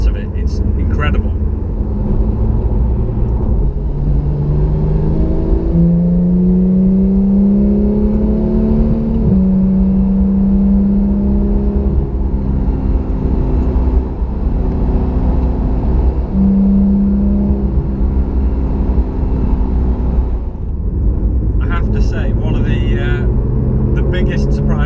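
A Porsche 911 GT3 engine runs steadily throughout, a loud continuous mechanical drone with rising and falling pitch sweeps as the revs climb and settle, present close up from start to finish with no break.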